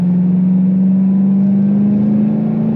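A steady, deep engine drone with a low throbbing hum from a Ford Shelby GT500's 5.8-liter supercharged V8, held continuously and loud, cruising under light throttle.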